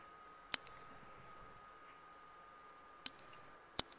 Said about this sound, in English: This is like this clicking I'm hearing.